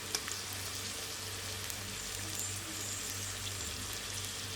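Sliced onion and crushed garlic fry in a pan with a soft, steady sizzle and fine crackle heard close up. A low hum runs underneath and no one speaks.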